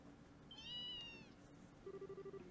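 A single drawn-out cat meow from the video game Trails in the Sky the 3rd, quiet and clear, followed by a short run of rapid electronic beeping pulses with no talking.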